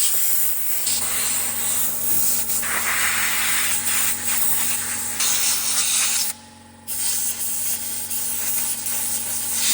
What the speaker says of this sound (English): now we're gonna blow some compressed air into the secondary